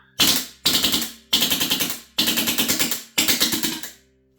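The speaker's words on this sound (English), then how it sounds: "With the gas mag chilled to just above freezing, the gun is extremely sluggish, but still able to fully cycle for nearly 100 shots" A GHK V3 gas airsoft AR rifle running on propane with a magazine chilled to just above freezing fires five short bursts, each a rapid string of sharp, close cracks that slows slightly as the burst goes on, separated by brief pauses.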